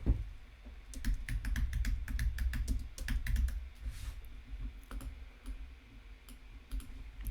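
Computer keyboard typing, a steady run of close, distinct key clicks of varied spacing lasting several seconds, with no voices.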